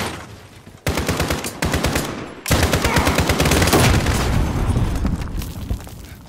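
Rapid automatic gunfire and heavy bursts from a Call of Duty Modern Warfare online match, loud and nearly continuous, with a brief lull before an even denser volley of shots and booms.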